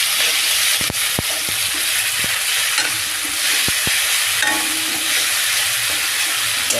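Green chili, chili paste, coriander paste and garlic paste sizzle and fry in a pan while being stirred, a continuous loud hiss with scattered scraping clicks.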